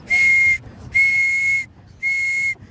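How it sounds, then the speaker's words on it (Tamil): A shrill emergency whistle blown three times on a boat ride, two long blasts and a shorter one, loud and close with brief pauses between. "இப்போது ஏதாச்சும் ஒரு எமர்ஜென்சினா இந்த விசில் வச்சு"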